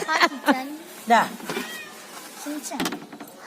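A cat meows several times near fresh fish at a Tamil home, where a haul of mixed fish, sliced fish and prawns lies out. The short calls come close and clear, mixed with people talking.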